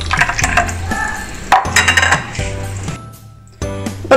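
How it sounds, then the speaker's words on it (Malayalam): Two ice cubes go into a homemade lemonade drink, making a few sharp clinks and clatters against the container, separated by quieter stretches of faint rattling. "നമുക്ക് ഇതിനകത്തോട്ട് രണ്ട് ഐസ് ക്യൂബ് ഇട്ട് കൊടുക്കാം."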